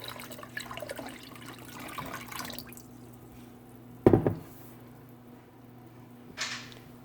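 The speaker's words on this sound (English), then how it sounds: "I'm going to add cool water, covering the tops of the eggs about a ½ inch" Cool water poured into a pot over eggs, a splashing pour that tapers off, followed by a sharp clunk and a brief later splash in a quiet kitchen.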